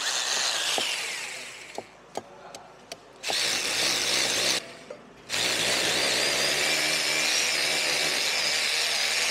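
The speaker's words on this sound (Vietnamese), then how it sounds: "Khoan để gắn vào tường như thế mà chắc được mọi người." A power drill whines loudly in bursts while drilling into a wall, stopping and starting several times with clicks between, then running steadily at the end.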